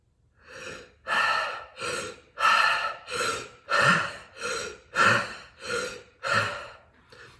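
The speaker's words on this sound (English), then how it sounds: "we're gonna be bringing in air through our mouth. So the second part of the breath looks like this" Simha Kriya breathing: sharp breaths drawn in through the mouth repeat about eight times in a steady rhythm, each a close, loud rush of air separated by brief pauses, with no talking.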